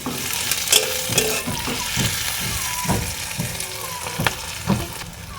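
Onion and tomato fry in a pan with a loud, continuous sizzle, punctuated by repeated scraping strokes of a spatula stirring close by, no voices.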